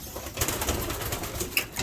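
Racing pigeons in a loft give soft, low cooing with a brief flutter of wings, close by and moderately loud against a steady background hiss.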